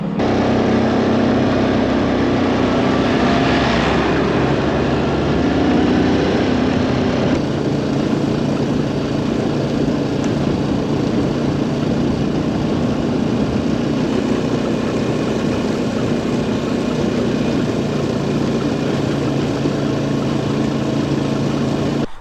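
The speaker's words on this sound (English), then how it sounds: "The new tractor's just turned up." A new tractor's engine runs steadily for the whole stretch, a loud, constant low rumble and drone with no clear change in pace, heard close with no voices.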